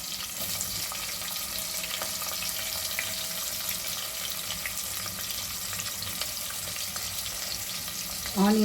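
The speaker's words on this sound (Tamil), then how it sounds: "ஆனியன் ஃப்ரை ஆகட்டும்." Onions frying in a pressure cooker for chicken biryani, with a continuous close hiss and light stirring throughout and a louder clatter at the very end.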